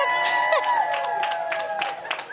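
A racecourse crowd at Hollywoodbets Kenilworth applauds the winning jockey after Race 1, with scattered claps and murmuring that sit under a commentator talking over them.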